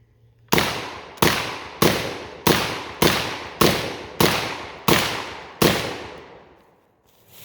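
Nine sharp, loud shots from a GForce GFY-1 shotgun fire in a steady rhythm about every three quarters of a second, each cracking hard and trailing off quickly, with a longer ring-out after the last.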